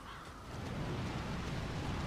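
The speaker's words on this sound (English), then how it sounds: "we could hear nothing but the screeching birds in the ominous sky above us" Screeching crows caw in an ominous sky over burned, corpse-strewn land in Elden Ring, harsh calls blended into a loud, rough continuous wash of game ambience, with no talking.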